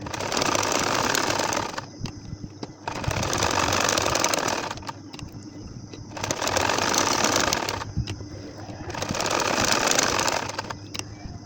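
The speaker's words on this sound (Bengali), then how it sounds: "সর্বপ্রথম তোমরা ওই কোণাটা দেখে চিহ্নিত করে তারপর সেলাই করে যাবা।" Sewing machine stitching a baby nakshi kantha quilt, loud close mechanical whirring in four bursts of about two seconds each, separated by short quieter pauses, no talk.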